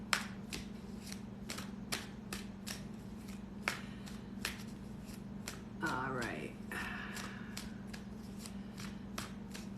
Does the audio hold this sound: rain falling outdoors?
no